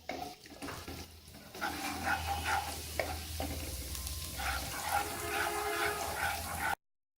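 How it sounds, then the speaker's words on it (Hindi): Two tablespoons of chopped garlic sauté in hot oil in a pan, a steady close sizzle with stirring scrapes that runs throughout before cutting off abruptly, with no talking. "अब हम इसमें डालेंगे चॉप किया हुआ लहसुन। 2 टेबल स्पून लहसुन है, ये इस ऑयल में डालेंगे और इसको थोड़ा सा सौते करेंगे"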